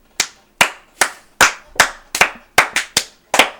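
Two podcast hosts clap by hand, about ten crisp, close claps in an uneven rhythm over a few seconds, loud and dry with silence between them.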